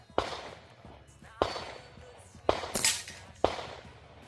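Four sharp, suppressed .22 rimfire shots fired through a HUXWRX Flow 22 Ti titanium suppressor crack out at roughly one-second intervals, each a crisp, close report with a short ringing tail.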